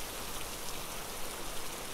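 Heavy rain pours down in a dense, even hiss of falling drops that is steady and loud for the whole stretch.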